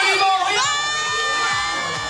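An evening crowd at a spring event fills the space with lively cheering and children's shouts, a dense, continuous din of many voices close by.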